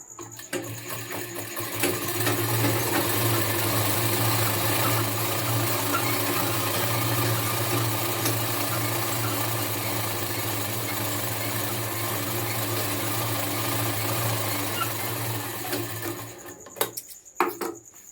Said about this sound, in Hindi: इसे एक पैर की सिलाई दे देनी है